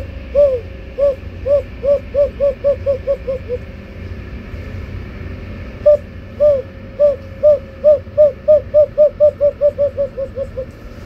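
A bird call device imitating a brown dove, used for hunting in Saudi Arabia, gives two series of soft, hooting, cooing notes in quick rhythmic runs, close and clear over a low background hum.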